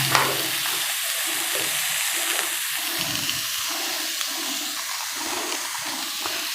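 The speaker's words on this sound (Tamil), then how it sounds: "ஒரு தக்காளி போட்டு வதக்கணும்." Tomato sizzles and fries in a hot kadai for a village-style mushroom kalan gravy, a steady close crackling hiss with soft stirring scrapes throughout.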